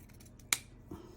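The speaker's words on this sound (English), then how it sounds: "You can angle them with a straight cut like this" Scissors make a single crisp, sharp snip through a ribbon tail at an angle, close and isolated, followed by a faint soft handling sound in a quiet room.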